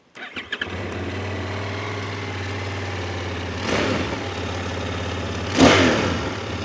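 A QJ Motor 900 SRT motorcycle engine cranks and catches with a few sputters, settles into a steady idle, then is blipped twice with rising revs, close and loud with no talking.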